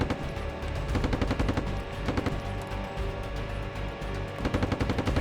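Sustained suppressive machine-gun fire aimed at an RPG team during an M1A1 tank platoon and NZLAV infantry attack on a motorized rifle company, a rapid, steady stream of loud shots rattling throughout.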